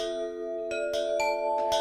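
Synthesized bell tones from a soft-synth patch, written for Nintendo Wii-style platformer music, ring out as a sustained chord with several struck notes layered on top, each chiming clearly with long decays, no voices.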